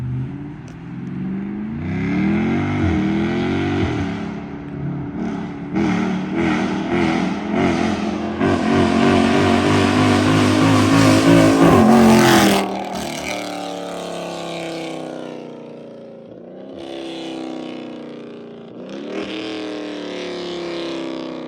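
A Dodge Charger Scat Pack and a Jeep SRT make loud exhaust fly-bys, their engines roaring as they accelerate past, building to a peak and then fading, with quieter passes afterward.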